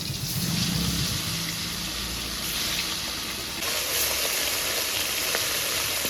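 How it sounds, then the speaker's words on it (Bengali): Hilsa fish pieces frying lightly in a pan of oil, a steady close sizzle and crackle running throughout with no talk. "মাছগুলো ভেজে নিচ্ছি একদম হালকা ভাজা করব"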